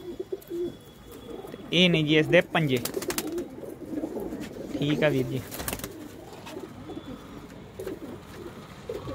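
Golden pigeons for sale at a Ludhiana market coo in several soft, throaty bursts close by, with someone talking quietly over and between the calls.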